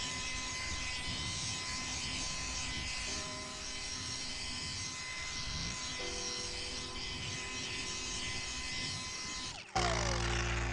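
A humpback-style polishing machine buffs car paint with gold standard polish, a continuous whirring drone with shifting tonal hums as speed changes, ending in a sudden brief drop and a lower, steadier pitch.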